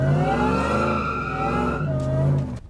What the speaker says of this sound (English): We're obviously not getting traction in first, even though we have these tires